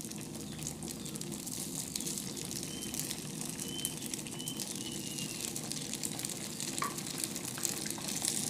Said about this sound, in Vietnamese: Các bạn chiên cho nó vàng đều hết hai mặt nha các bạn